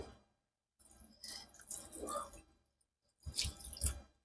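Cold water poured over chhena (fresh curd) held in a cloth, splashing close by in two bursts with a short pause between them and no speech.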